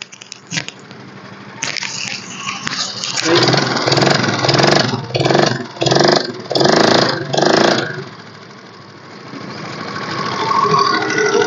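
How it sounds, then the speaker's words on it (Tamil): A 2010 model scooter engine runs nearby, idling before revving in four or five distinct pulses, then settling back to a steady idle. "செல்ஃப் ஸ்டார்ட்டோட இருக்குதுங்க."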